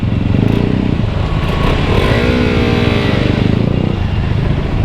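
A KTM RC 200 motorcycle rides through slow, congested traffic on an avenue in Cainta, Rizal, its engine a steady loud drone with a brief rising rev, surrounded by dense road noise and no talk.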